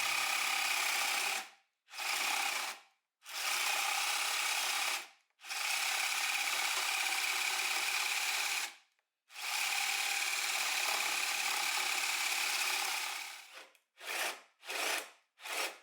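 A power drill with a hole saw grinds steadily through wood in long, slow bursts to avoid overheating, pausing briefly between them, then several short quick bursts at the end.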